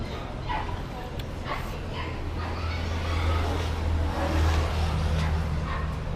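Several small dogs yap and bark in short bursts over a steady low engine-like hum, with voices talking in the background.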